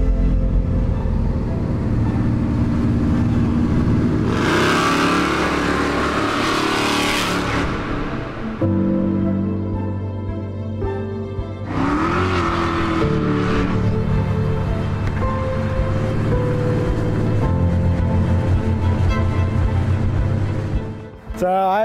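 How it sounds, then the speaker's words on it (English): A 1966 Chevelle with a 572-inch big block Chevy engine and turbo 400 transmission rumbles loudly and continuously, with two strong revs swelling and falling back to a deep idle. "So I have a 1966 Chevelle. It's got a 572-inch big block Chevy."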